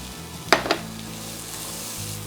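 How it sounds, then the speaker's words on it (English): Apples sauteing in melted non-dairy butter in a frying pan give a steady, close sizzle, with two brief clinks of a utensil against the pan early on. "You want to saute the apples until they are a little bit more tender"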